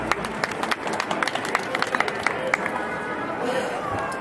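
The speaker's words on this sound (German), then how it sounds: "Ein Applaus für die Heidi, danke." Applause and scattered claps from a small crowd at an outdoor peace vigil in Saarbrücken, sharp irregular hand claps over a murmuring background, fading out after a few seconds.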